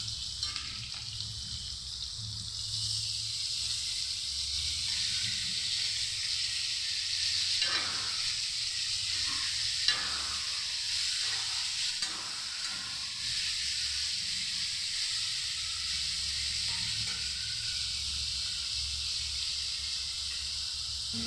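A spice paste of ginger, chili, coriander and cumin sizzles steadily in a hot pan, a constant frying hiss with occasional stirring scrapes and no talking.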